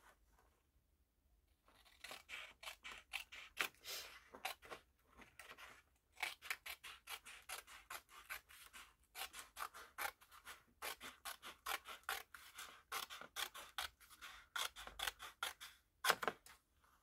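Scissors cut a paper strip for a scrapbook gift card, a long run of quick, crisp snips in bursts with short pauses, close and fairly quiet, with no talking.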